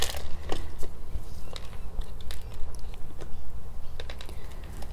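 Crackly rustling and crunching of dry bark medium as a dendrobium orchid is pulled apart from its too-small pot, a dense run of close scratchy crunches without talk.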